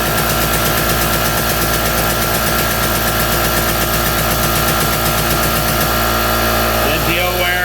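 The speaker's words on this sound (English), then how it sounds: "Let the old air compressor catch up a minute. We'll wait till it builds up, kill the noise." An old air compressor runs in a workshop while building pressure: a loud, steady mechanical drone with a fast, regular chugging pulse throughout, close to the microphone and with no voices over it.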